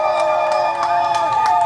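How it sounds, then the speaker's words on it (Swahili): A crowd at a regional gathering in Songwe cheers and shouts in a loud, continuous roar, with scattered claps mixed in. "tafadhali naomba tuwapigie makofi"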